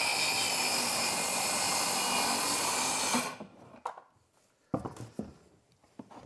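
A circular saw cuts through a wooden board with a loud, sustained whining buzz that stops abruptly after about three seconds, followed by a few sharp knocks and clatters of wood.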